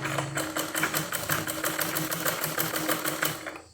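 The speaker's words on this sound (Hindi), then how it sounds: "ये से सिलाई को ऊपर करते रहो और इस पर सिलाई मारते रहो, तो ये ऊपर की तरफ ही आ जाएगा।" A sewing machine stitches fabric in a quick, even clatter of needle strokes that is close and loud, then stops abruptly near the end.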